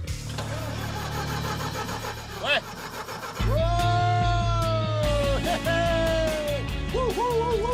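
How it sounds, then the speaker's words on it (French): A vintage Laffly fire truck's engine cranks and catches, then settles into a steady, loud, rough idle with rising and falling whines, heard close up and without talking. "Le moteur se met en route, pas de bruit bizarre, rien."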